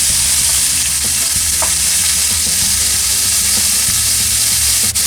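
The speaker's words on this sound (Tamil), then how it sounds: "நான் இதுக்குள்ளேயே எங்களோட ப்ரோனையும் ஃப்ரை பண்ணி எடுக்க போகிறேன்." Prawns frying in a pan, a steady close sizzle that runs the whole time, with soft stirring clicks and scrapes now and then and no talk.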